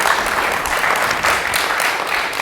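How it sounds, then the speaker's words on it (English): An audience at an intimate food talk gives a round of applause, steady dense clapping at close range filling the whole stretch without speech. "let's give her a round of applause"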